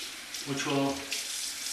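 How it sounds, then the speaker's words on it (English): Water running from a bathroom faucet during a face rinse after a safety-razor shave, a steady soft hiss with a brief splashing swell as hands meet the stream. "So I do a warm water rinse at the end, then perform a cold water rinse"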